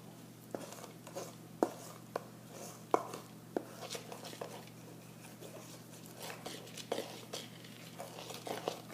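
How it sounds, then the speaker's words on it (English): Ingredients being stirred in a bowl, faint repeated scraping and tapping strokes of a spoon in an uneven circular rhythm, quiet and close with a low steady hum behind. "You have to make sure you stir until everything is mixed together very thoroughly"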